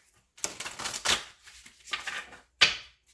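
Tarot cards riffled and shuffled by hand in several separate bursts of crisp flapping and slapping, close and fairly loud, with short pauses between and a final sharp snap near the end, no talking.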